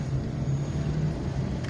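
A 2006 Chevrolet Matiz converted to fully electric drive rolls down the road, giving a steady, moderate low hum of tyre and road rumble inside the cabin without engine roar.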